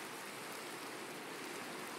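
Steady rain pours down in a video game, a dense, even hiss that fills the whole stretch without a break and with no voices over it.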